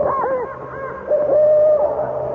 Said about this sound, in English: It is just an owl.